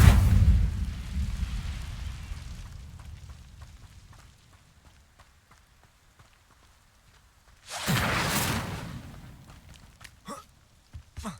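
Incendio fire spell cast in Hogwarts Legacy: a loud burst of crackling flame that fades over several seconds, then after a quiet gap a second rushing whoosh of fire flares and dies away, with faint clicks at the end.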